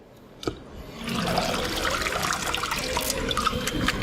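Water pours steadily from a tap to rinse freshly extracted aloe vera gel, a single knock followed by a continuous hissing, splashing flow close by.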